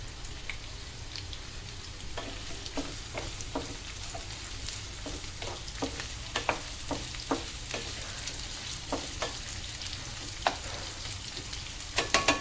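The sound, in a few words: onions frying in oil for fish curry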